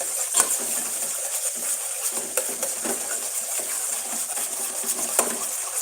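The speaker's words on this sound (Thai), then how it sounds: "ผัดพริกแกงเข้าไปเลยนะจ๊ะนะครับ" Red curry paste being stir-fried in a pan for a spicy coconut-shoot curry gives a continuous hiss of frying, broken by repeated metallic scrapes and taps of a utensil against the pan.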